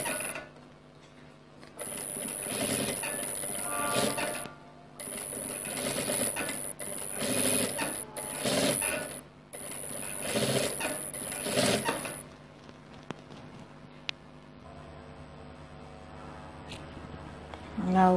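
Sewing machine stitching piping onto bias-cut fabric, a steady close mechanical whirr running in long stretches with brief stops and restarts, then a quieter slower stretch near the end.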